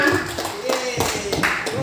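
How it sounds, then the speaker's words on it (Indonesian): Applause from a crowd, steady clapping lasting a couple of seconds with some voices mixed in. "tepuk tangan untuk kita semua."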